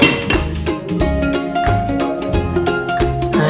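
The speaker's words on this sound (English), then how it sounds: "I am going to add approximately 200 grams each from butter and sugar for my mixing bowl, and I am going to mix it now." Butter and sugar being mixed in a mixing bowl for a banana chocolate cake, with repeated clinks and scrapes of a utensil against the bowl that keep up a steady rhythm.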